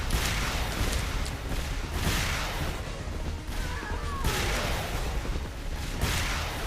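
Rocket launcher fire in the shooter Xonotic during a DeFrag speed run, a rapid series of loud blasting bursts and whooshes, one after another, under a constant rushing roar.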